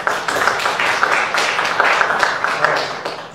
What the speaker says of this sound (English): Don't applaud until you've heard me.